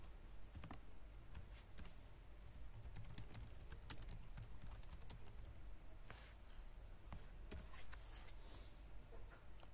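Steady, quiet clatter of keys being typed on a computer keyboard, with irregular clicks and a few sharper taps over a faint background hiss, no voices.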